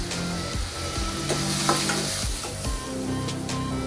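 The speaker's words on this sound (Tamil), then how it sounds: "வெங்காயம் நல்லா வதங்கிடுச்சு." Onions sauté in a pan for tomato gravy, a close steady sizzle and crackle with stirring scrapes running throughout the short stretch, no voices.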